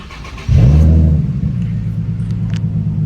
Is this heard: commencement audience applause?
no